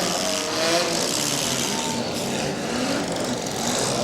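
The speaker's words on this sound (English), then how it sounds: "I think we got a driver holding her up against the rev limiter there" A demolition derby car engine at a Portage County derby is held against its rev limiter, giving a loud, steady, buzzing roar that stays at one pitch throughout with no talk over it.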